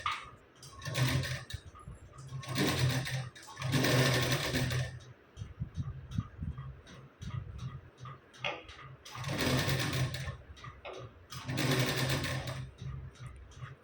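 Sewing machine stitching a lehenga blouse sleeve seam: several rapid, rattling bursts of stitching, each a second or two long, separated by short pauses with soft handling clicks, close and fairly quiet.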